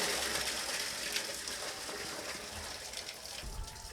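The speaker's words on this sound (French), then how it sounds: "au fur et à mesure qu'on est en train de verser l'eau, le sol est en train d'absorber déjà cette eau" Water is poured steadily onto soil as a continuous soft gushing, splashing wash lasting throughout, moderately close and with no talking.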